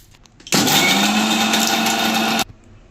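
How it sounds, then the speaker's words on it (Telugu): A mixer grinder blends ginger and garlic into a fine paste, a loud, steady whirring roar of about two seconds that starts and stops abruptly. "ఇవన్నీ ఇప్పుడు మనం ఫైన్ పేస్ట్ లాగా చేసుకుందాం, మిక్సీ పట్టుకుందాం"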